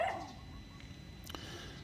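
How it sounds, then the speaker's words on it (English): A dog on a beach gives a short bark or yip near the start, followed by a faint whimper and a brief second sound, at moderate distance over quiet background noise. "it's barking basically at a dog that's 200 feet away on a beach"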